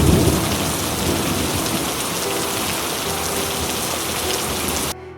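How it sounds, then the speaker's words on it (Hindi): Heavy rain pours steadily during a thunderstorm, with a low rumble of thunder swelling near the start, a dense continuous hiss that cuts off abruptly at the end. "इस बार धन्ना जी के गांव में बारिश हुई।"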